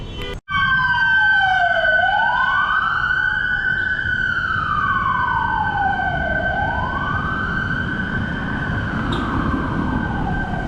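A fire engine siren sweeps up and down in long wailing cycles as the truck passes nearby, loud and steady alongside a constant high tone and low traffic rumble, with no talk.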